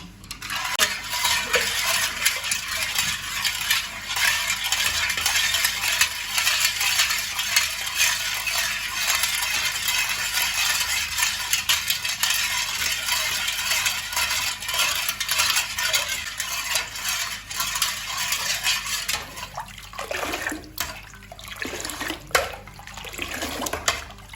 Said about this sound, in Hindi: चीनी को अच्छी तरह से हम मिक्स करेंगे इसमें।